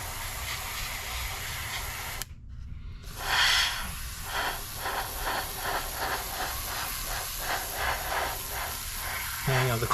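Airbrush hissing steadily as it sprays paint onto a paper card model of an Me-410 aircraft, a continuous close spray that cuts out briefly for about a second before resuming.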